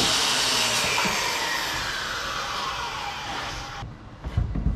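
A Makita saw riding on a sled rips a flat edge down a rough-sawn blue pine board with a loud, steady whine that cuts off near the end, leaving faint knocks.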